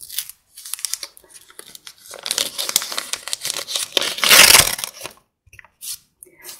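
Paper surprise packet being unwrapped by hand, with bursts of crinkling and tearing paper in uneven rustling clusters, loudest in one sharp rip near the end, close up with no talking.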